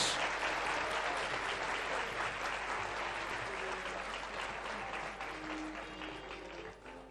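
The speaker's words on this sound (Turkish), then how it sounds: "Keskin, Kasımcan Arıkanoğlu ve Belinay Başar sahneye alkışlarla geliyorlar." Steady applause fills an award ceremony as the third-place winners of a student science art competition walk onto the stage. The clapping stays dense and continuous throughout and fades slightly toward the end.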